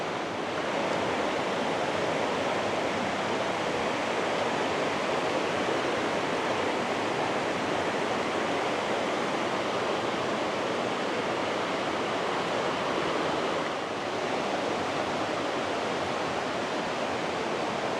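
A river near the Pontneathvaughan waterfalls in Wales babbles and rushes as a dense, constant broadband roar, close and steady, with no voices.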